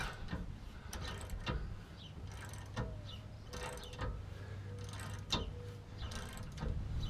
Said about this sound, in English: I'm just going to use a ratchet.